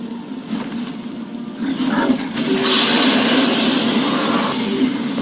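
A Greybeard's Thu'um dragon shout in Skyrim at the Throat of the World, a rumbling, roaring blast that swells and holds for several seconds like rushing wind.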